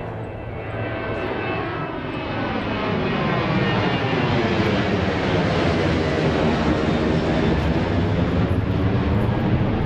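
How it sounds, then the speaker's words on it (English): An airplane passes overhead near a San Diego beach, its engine roar rising from a broad rumble to a loud, sustained whoosh that holds steady to the end. "here comes a plane with a good view"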